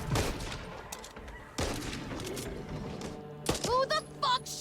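Gunfire in the zombie shooter Back 4 Blood, sharp shots and bursts at about 0.1, 1.6 and 3.5 seconds over steady game noise, with voice chatter and in-game callouts in the last second.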